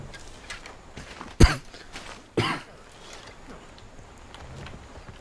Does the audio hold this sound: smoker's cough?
yes